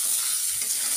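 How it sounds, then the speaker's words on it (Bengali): Soaked rice frying in a pan for muri ghonto, a steady broadband sizzle with soft stirring scrapes, close and continuous, no voices. "চালটা ভিজিয়ে এরকম করে ভাজবে, দেখবে কত সুন্দর টেস্ট হয়।"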